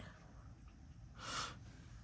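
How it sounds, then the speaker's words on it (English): A single short sniffle from someone getting over a head cold, breathing in sharply through the nose during a quiet moment while painting earrings, with faint room hiss around it. "if you hear me sniffling a little bit, guys, I'm getting over a little bit of a head cold"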